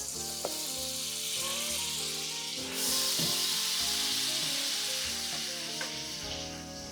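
Minced jarred garlic sizzles steadily in a hot pan, a dense continuous frying hiss that swells slightly midway, with a few faint clinks of stirring.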